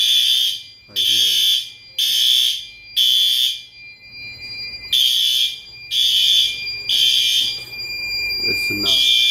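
A smoke detector's fire alarm sounds during a test, blaring in loud, regular piercing beeps repeated in a steady on-off pattern, with a brief break partway and faint background noise underneath.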